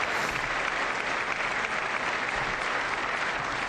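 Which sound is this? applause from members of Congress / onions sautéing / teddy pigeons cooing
applause from members of Congress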